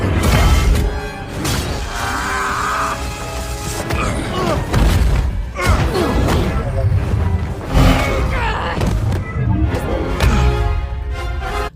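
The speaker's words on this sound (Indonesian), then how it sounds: "Ledakan kuantum pun terjadi yang membuat Carol terpental, begitu juga dengan Infinity Gauntlet." A quantum explosion in an Avengers battle scene throws Carol and the Infinity Gauntlet aside. Heavy booms, crashes and shattering impacts run through a dense, loud film soundtrack, with a voice speaking over parts of it.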